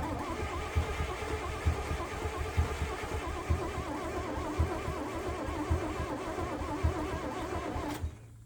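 Truck engine in a COE being cranked during fuel system repair, a steady rhythmic chug of the starter with regular pulses and a whining undertone, fairly faint and unbroken for about eight seconds before stopping abruptly.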